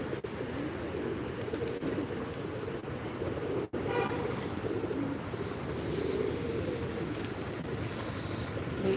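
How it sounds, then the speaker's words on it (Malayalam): A flock of pigeons coos softly and continuously at DH Ground in Kochi, a low layered murmur of calls over open outdoor ambience with a few faint distant sounds. "ഇവിടെ ഇങ്ങനെ കുറേ പ്രാവുകൾ ഉണ്ടാവും കേട്ടോ"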